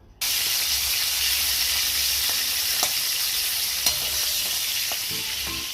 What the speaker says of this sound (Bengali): তার জন্য আমি নিয়ে নিয়েছি ইলিশ মাছের মাথা, হলুদ লবণ দিয়ে আমি ভাজতে দিয়েছি।